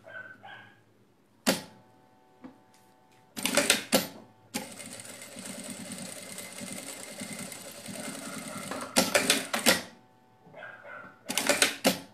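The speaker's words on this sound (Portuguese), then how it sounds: "vai passar duas costuras aqui com retrocesso" Domestic sewing machine backstitching a bag strap, several short loud bursts of rapid stitching alternating with quiet pauses and one longer steady run in the middle, close and clear.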